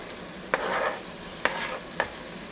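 Mushrooms drop into a pot of sizzling beef, with three sharp clatters and stirring scrapes over a low sizzle, close and alone.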